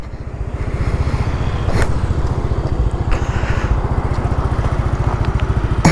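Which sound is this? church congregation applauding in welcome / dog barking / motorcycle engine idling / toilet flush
motorcycle engine idling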